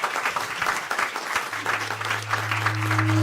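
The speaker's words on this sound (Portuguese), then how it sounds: "Eu pediria uma salva de palmas para esses 2 convidados incríveis." Audience applause for two guests fills about three seconds with dense, even clapping. A low sustained tone swells underneath for the second half.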